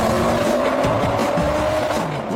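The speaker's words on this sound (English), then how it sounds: "What you have here, then, is the most powerful estate car in the world." An Audi estate, the world's most powerful, driving with a steady engine drone and a tonal whine, with some faint tyre noise mixed in. The sound stays loud and continuous throughout, and no one speaks.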